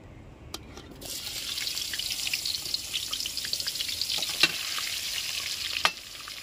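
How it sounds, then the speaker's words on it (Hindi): Brinjals stuffed with peanut masala hit hot oil and start a steady, close frying hiss about a second in. Faint clinks and splashes break through the crackle now and then. "मैं इसको तेल में फ्राई करने के लिए डालता हूँ"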